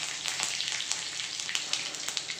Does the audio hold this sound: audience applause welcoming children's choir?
no